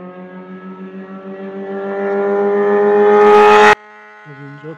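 At a drag race in Ardabil, a Peugeot overtakes a Samand. A loud, buzzing engine note climbs steadily in pitch and volume, cuts off abruptly, then gives way to a brief, wavering lower tone.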